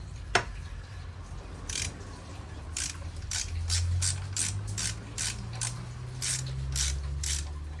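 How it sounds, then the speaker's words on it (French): Bolts being loosened with a ratchet to free the front axle of a CF Moto 800 MT-X motorcycle: a steady run of quick, close clicking ratchet strokes over a low mechanical hum. "C'est juste desserrer pour libérer l'axe."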